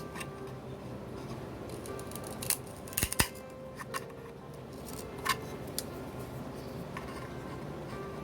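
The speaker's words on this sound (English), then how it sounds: "Then I'm going to take my little box cutters right here and just break this off." Wire cutters snip off a piece with a few quiet, sharp clicks clustered near the middle, set against a low, steady background hush.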